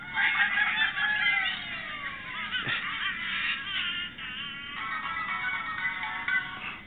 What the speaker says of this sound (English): That's Angry Birds running on the EXOPC.